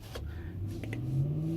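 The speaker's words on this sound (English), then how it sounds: "These guys are racing their cars in between trucks" Cars racing between trucks on a highway, one engine rising steadily in pitch as it revs and accelerates, a moderately loud, continuous drone heard without talk.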